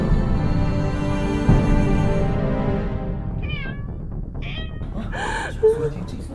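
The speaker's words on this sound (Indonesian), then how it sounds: "Ada suara kucing." A cat meows several times near the end of a scene in an Indonesian horror TV series, high wavering cries following a low drawn-out tone that fades out.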